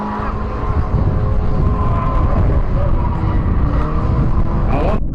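A race car drives past nearby with a loud, continuous engine roar and shifting tone, and a voice can be heard faintly under the noise.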